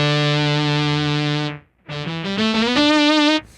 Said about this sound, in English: Okay, so let's check out some of the lead sounds.